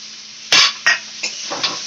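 Potato and fried coconut being stirred in a pan while making vegetarian ghugni: a few sharp scraping strokes of a spoon against metal over a low steady hum, each burst short and close.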